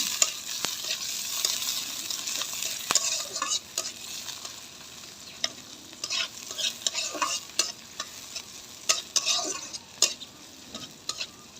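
Shrimp frying in a pan with ridge gourd, a close, bright sizzle broken by frequent sharp scrapes and clicks of a spatula stirring the pan in irregular bursts.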